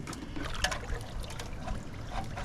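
Quiet trickling water from a boat's drain plug, with small splashes and drips, soft and close.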